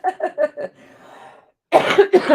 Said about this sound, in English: Sorry, I'm coughing in your ear